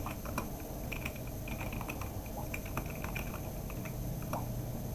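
Keys tapped on a computer keyboard to enter a password, a steady run of light close clicks in irregular rhythm over a constant low room hum, with no talk.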